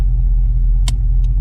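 Foxbody Mustang engine rumbling steadily while driving, a loud continuous low drone with a couple of brief higher clicks partway through.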